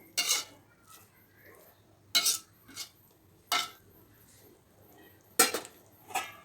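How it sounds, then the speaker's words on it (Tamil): A spoon stirs a pot of vegetable semiya kichdi, giving five short, sharp scrapes and clatters against the metal with quiet pauses between them. No one talks. "நல்லா கிளறிட்டு மசிச்சு விடாதீங்க, அப்படியே கிளறி மட்டும் விடணும்."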